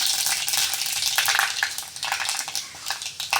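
Fenugreek seeds sizzle in hot oil, after mustard seeds, while tempering for a Tamil vathal kuzhambu: a steady, loud, crackling fry hiss throughout with small pops and no talk.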